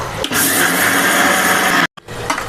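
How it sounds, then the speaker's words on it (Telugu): Flaxseeds whir in a kitchen mixer grinder jar with a loud, steady grinding roar that runs for about a second and a half, cuts out abruptly, then restarts briefly. "ఇప్పుడు ఈ అవిసె గింజల్ని మనం ఫస్ట్ మిక్సీ జార్లో వేసుకొని మిక్సీ పడదాం"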